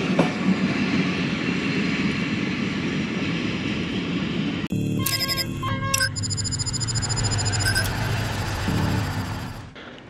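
The Khyber Mail passenger train rolls out of a Pakistani railway station, loud and close: a steady rumble of rolling wheels and cars, then a sharp clanking shift with high squealing tones that carry on until the end.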